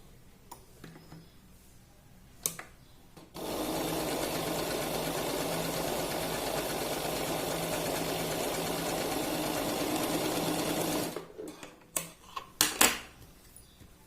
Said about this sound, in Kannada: ಈ ರೀತಿ ಡಬಲ್ ಫೋಲ್ಡ್ ಮಾಡಿಕೊಂಡು ಮೊದಲಿಗೆ ಒಂದೊಂದು ಸ್ಟಿಚ್ ನ ಹಾಕೊಳ್ಳಿ.